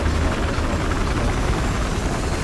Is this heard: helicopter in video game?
yes